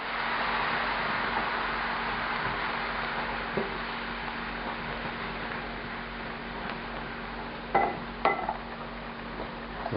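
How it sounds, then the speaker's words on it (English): A utensil scrapes fond from the bottom of a pan as white wine deglazes it with bay leaves for a pork daube filling, a steady sizzling hiss broken by a few sharp metallic scrapes near the end. "get all that fond off the bottom of the pan here"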